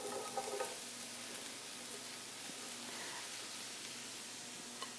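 Sliced mushrooms sizzle in a hot pan as they start to sauté, a steady, faint hiss and crackle with no talking.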